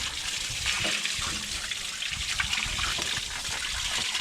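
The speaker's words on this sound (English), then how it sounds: "Nothing fancy, just regular cold water." Regular cold water runs continuously while rinsing sand and clay from the filter area of a Komatsu D51PX dozer, a steady close hiss and splash with no pauses.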